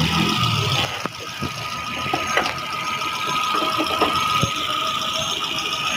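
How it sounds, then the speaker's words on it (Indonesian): A 2008 Kia Picanto with a manual transmission and a four-cylinder engine idles smoothly, heard from outside the car as a steady, moderately loud hum with light ticking, under brief talk. "Tinggal kita lihat untuk suara mesin dari luar sih."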